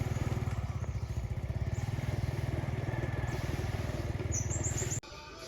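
A motorbike ridden along a road in a remote rural village in Sisaket, Thailand, its engine throbbing loud and close in a steady pulsing drone for about five seconds before cutting off abruptly.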